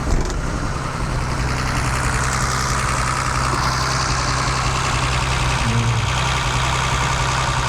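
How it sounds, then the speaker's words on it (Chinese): A C107 280 CSL car engine idles steadily during a test run after its faulty fuel distributor was repaired. The close, loud, even idle hum goes on without a break and without speech. "我们放个打火机来看看它引擎的运转的稳定度"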